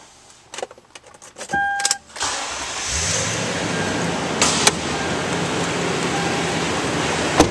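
A 2012 Toyota Tundra CrewMax Limited 4WD starts with a short cranking burst after a few clicks and mechanical sounds, then settles into a steady, fairly loud idle that continues to the end.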